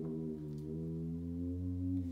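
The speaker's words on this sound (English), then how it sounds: "a whammy bar makes like a cool sound like this" A quiet electric guitar sustains a chord while the whammy bar bends its pitch gradually downward and back up, a single smooth wavering swoop heard alone.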